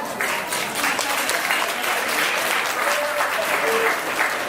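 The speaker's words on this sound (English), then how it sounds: "I think she deserves another round of applause for that." Guests at a wedding reception in Thailand give a round of applause during the best man's speech, a steady wash of clapping that carries evenly for several seconds.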